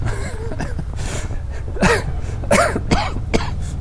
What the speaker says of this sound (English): coughing inside a helmet